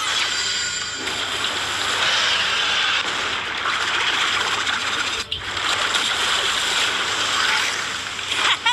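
A giant cartoon tidal wave crashes in as an attack effect, a loud continuous roaring rush of water lasting several seconds, with a brief dip midway before surging again.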